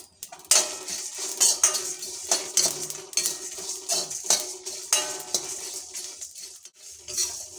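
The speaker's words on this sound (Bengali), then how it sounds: "মশলাগুলো ভালো করে ভেজে নেব।" Coriander, fennel and cumin dry-roasting in a pan, with repeated loud scraping clatters of a metal spoon against the pan, stirring in an irregular rhythm close by.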